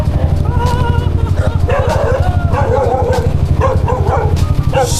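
A dog barks in repeated close yips and bow-wows, with people talking over it throughout.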